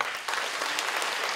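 An audience claps for a technical crew at a televised event, a dense, steady burst of applause heard alone and fairly loud throughout.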